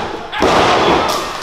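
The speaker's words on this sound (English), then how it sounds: "Power slam." A wrestler lands from a power slam on the ring mat during a live wrestling match, one heavy, close thud followed by a loud, sustained wash of arena crowd noise.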